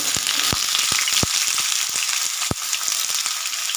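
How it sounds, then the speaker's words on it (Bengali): Vegetables fry with salt and turmeric in oil in a pan, giving a loud, steady sizzle throughout with a few sharp crackles and pops. "এই সবজিটা আমি ভালো করে ভেজে নেব"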